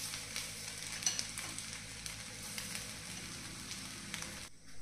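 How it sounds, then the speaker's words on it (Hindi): Sabudana khichdi sizzles and fries steadily in a pan as fried peanuts are added, a dense crackling hiss with light stirring, close and continuous before cutting off near the end. "और अभी हम इस पे डालेंगे जो हमने मूंगफली फ्राई करके रखी थी वो।"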